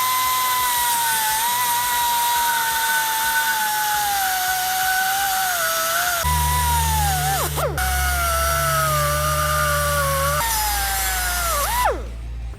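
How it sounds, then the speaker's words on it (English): A cutoff wheel grinds through metal ears on a Nissan Xterra, giving a loud, high whine that holds steady, dips in pitch as it bites twice, then stops abruptly. "So we got a cutoff wheel right here."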